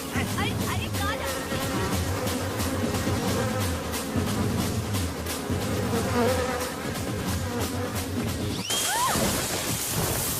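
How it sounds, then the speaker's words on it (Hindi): Honeybee buzzing from a dubbed Hindi feature film, a droning hum that swells and fades under a busy soundtrack mix, with a burst of noise near the end. "भागिया ये मक्खी नहीं मधुमक्खी है।"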